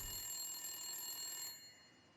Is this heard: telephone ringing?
yes